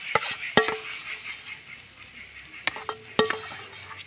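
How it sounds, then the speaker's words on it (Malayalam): A spoon stirs and scrapes a mashed potato and boiled egg mixture in a pan, with a few sharp clinks and scrapes spaced through a soft, quiet background. "ഇനി അതെല്ലാം കൂടിയിട്ട് ഒന്ന് നന്നായിട്ട് യോജിപ്പിച്ച് കൊടുക്കാം നമുക്ക്"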